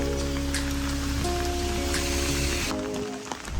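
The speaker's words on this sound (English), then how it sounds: "It's raining so much." Heavy rain pours steadily in Korea, a dense continuous hiss of drops striking surfaces close by, with a low rumbling hum underneath and a few brief clatters near the end.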